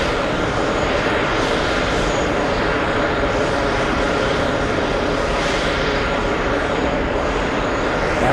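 A Delta Airbus A321neo jet takes off at JFK airport, a loud, continuous engine roar that stays steady and close throughout, with no clear talking over it.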